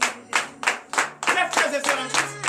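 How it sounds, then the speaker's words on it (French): Congregation clapping in acclamation during a morning prayer service in Comè, Benin, with about eight sharp, rhythmic handclaps. A voice and sustained tones carry underneath the claps. "Donnez l'acclamation à notre Seigneur Jésus."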